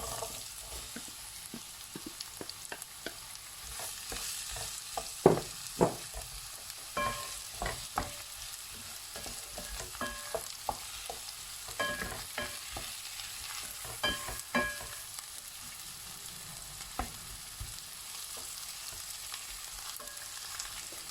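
Onions frying in hot oil in a pan, a soft steady sizzle broken by scattered clicks and scrapes of stirring, fairly quiet and with no voices.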